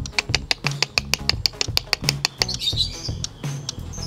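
A songbird answers with rapid, sharp chirps in a quick irregular series, fairly close, over a steady low background.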